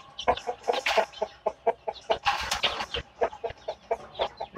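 Bangkok chickens, young birds and breeding hens, clucking in a steady run of short, close, repeated calls with a few louder squawks, no talking over them.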